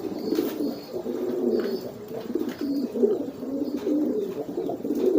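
Pigeons coo softly and repeatedly in a quiet setting, the low rolling calls forming a steady, continuous murmur with faint higher chirps now and then.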